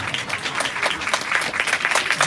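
A church congregation claps loudly and steadily throughout, a dense, sustained wash of hand claps with no break and no voices standing out.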